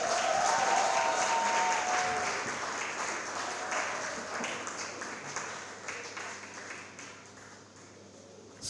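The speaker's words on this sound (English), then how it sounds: "Keep clapping as he comes." An audience at a Boxing Day concert applauds steadily, a dense wash of clapping that gradually thins and fades as it continues, with no talk over it.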